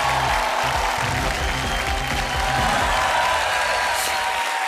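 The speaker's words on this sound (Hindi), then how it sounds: "एक बार जोरदार तालियां।" Studio audience at the grand finale of a televised stunt reality show gives loud, continuous applause, a dense wash of clapping with a faint crowd murmur underneath.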